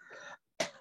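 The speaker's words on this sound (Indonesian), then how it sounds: "Batuknya dikit." A short cough, then a brief silence and a second sharp cough-like burst, close and fairly loud.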